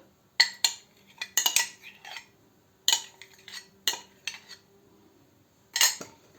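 Spoon scraping and knocking against a bowl as cake batter with sour cream and ammonium leavening is mixed, in irregular bursts of clattering strokes with short pauses, fairly close.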